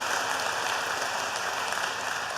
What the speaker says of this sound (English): applaud cheap stuff